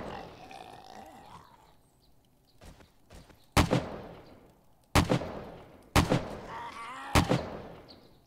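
Four sharp, loud gunshots from the video game 7 Days to Die crack out at spaced intervals, each with a short decaying tail, following a quieter stretch of low background game noise.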